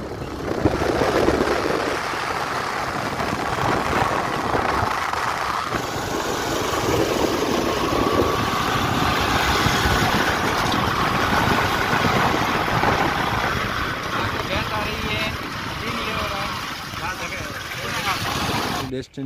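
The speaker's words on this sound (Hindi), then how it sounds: "मेरे बाइक की अपने आप रेस बढ़ रही है।" A motorbike engine, with the throttle rising by itself, runs throughout at a steady rumble while riding on a road near Bakra, Jalore, with wind and road noise around it and someone talking over it.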